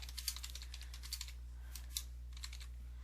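Rapid, light keystrokes on a computer keyboard while entering ActionScript code, a close, steady patter of typing in short bursts with brief pauses over a faint constant hum, no voices.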